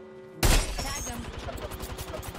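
Gunfire in the video game Apex Legends erupts with a sudden loud burst, followed by a rapid stuttering rattle of shots that carries on underneath for the rest of the moment.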